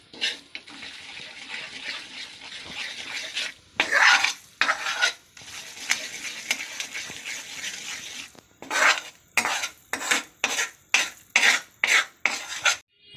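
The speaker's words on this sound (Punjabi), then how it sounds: "ਬੇਸਨ ਆਪਾਂ ਭੁੰਨ ਲਿਆ ਵਾ ਬਸ ਇੰਨਾ ਕੀ ਭੁੰਨਣਾ" Gram flour (besan) being stirred and roasted in a pan: scraping and clinking strokes of a spoon against the metal, in uneven bursts with short pauses and a quick rhythmic run of strokes toward the end.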